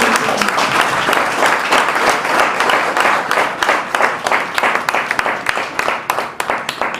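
Loud applause from an audience at a Nigerian stakeholders policy event, dense at first and then thinning into separate claps toward the end.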